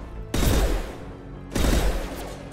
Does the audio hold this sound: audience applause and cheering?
no